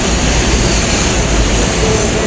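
A Mumbai local train runs towards Virar, heard from inside the carriage as a loud, continuous low rumble with steady roar and rattling wheel noise and no pauses.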